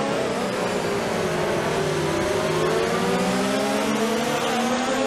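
Formula 1 race car engine in the F1 2019 racing game, a loud, continuous high-revving whine whose pitch sweeps up and down through gear changes, steady throughout with no speech.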